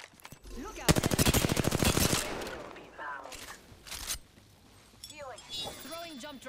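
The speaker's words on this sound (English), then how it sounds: "Taking fire." A video game shooter fires a rapid burst of automatic gunfire, about a dozen sharp shots in quick succession, followed by a few scattered shots while a voice talks intermittently over the action.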